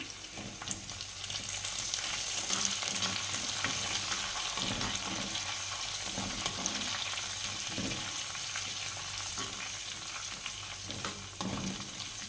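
Golden onions and curry leaves fry in a pan of oil for a Kerala fish curry, giving a steady, dense sizzle throughout with faint stirring scrapes and no voices.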